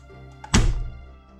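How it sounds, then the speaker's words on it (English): A dart fired from a spring air gun smacks into a chronograph with a single loud, close thunk that rings out and fades over about half a second, preceded by a faint click. "I hit the chronograph now"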